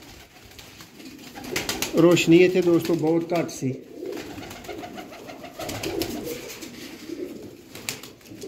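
Pigeons in a breeders' loft coo in soft, repeated bursts beneath someone talking close by, the calls strongest early and fading under his voice.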